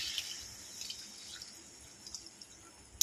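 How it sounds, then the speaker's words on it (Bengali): Water goes into a pan of thin rohu fish curry with potatoes and pointed gourd as a faint, close trickle with scattered small drips and splashes. "এবারে একটু জল দিয়ে আমি সেদ্ধ করে নেব"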